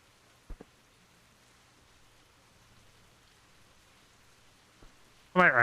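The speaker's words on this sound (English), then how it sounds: "I was just kind of sitting there listening to the rain, and I felt the calm by it" Soft, steady rain hisses faintly throughout, with a couple of light clicks; a voice cuts in loudly at the very end.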